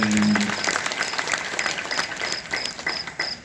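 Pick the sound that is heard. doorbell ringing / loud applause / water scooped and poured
loud applause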